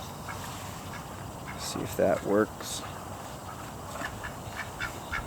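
Ducks at a backyard duck pond in a Florida garden give a couple of short, clear quacks midway through, while a person talks nearby against quiet outdoor background noise.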